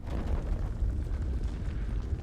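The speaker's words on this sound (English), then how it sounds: "That's gunfire." Gunfire in the horror video game House of Ashes, set among ruins; a low, rumbling series of muffled distant bursts rolls on continuously, sounding far away and heavy rather than sharp.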